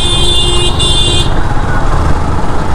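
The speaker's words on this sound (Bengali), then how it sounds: "হর্ন টন দিয়ে কাঁপাই দিতেছে একদম" A vehicle horn in road traffic gives two quick, close, loud honks over a constant rumble of engines, then stops while the traffic drone carries on.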